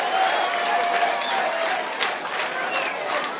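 Audience applause and crowd noise at a competition held at a Mahadeva temple, a steady dense wash of clapping and murmur throughout, fairly loud and continuous with no clear speech on top.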